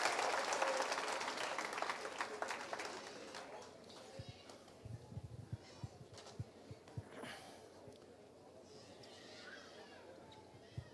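A church congregation applauds the Lord in a broad wash of clapping that is loudest at the start and then thins out, with scattered claps and murmuring voices underneath.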